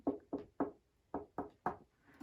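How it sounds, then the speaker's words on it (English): Six light, hollow knocks on the wooden seams of a fiddle back in two groups of three, evenly spaced and close up, with quiet pauses between taps. "make a tapping sound, not very hard, but on the back"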